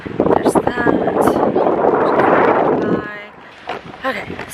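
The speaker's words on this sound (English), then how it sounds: "it's super windy, so I'm curious how the audio is going to be on this" Strong wind buffeting a camera microphone outdoors by a road, loud rumbling gusts that roar for a few seconds, then drop away abruptly, leaving quieter breezy noise with a voice speaking briefly near the end.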